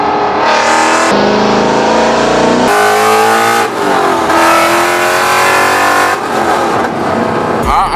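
A 1000-horsepower supercharged Mustang accelerates hard in first gear, its engine roaring loud and close with rising revs, a shift break around the three-second mark, then a second strong pull, continuous throughout.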